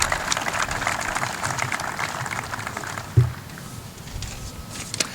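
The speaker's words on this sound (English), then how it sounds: "How about a nice round of applause for this entire group?" At a college senior student-athlete awards ceremony, an audience applauds the senior award winners with a dense wash of clapping that gradually thins out, broken by one soft thump midway.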